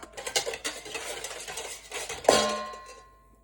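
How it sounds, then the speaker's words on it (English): A whisk clatters quickly against a bowl, mixing the wet ingredients with olive oil and yeast for ciabatta dough: rapid, close metallic ticks in an uneven rhythm, ending in one sharper clink that rings out briefly. "Whisk this together."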